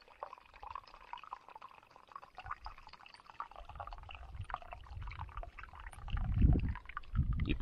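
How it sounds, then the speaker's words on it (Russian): Hot tea poured at a winter taiga campsite, a soft liquid gurgle and splash that builds and gets louder toward the end, close by, with no talk. "Наливаем горячего чая."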